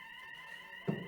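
An electronic alarm sounds at a conference forum, a steady high sustained tone with a brief thump near the end.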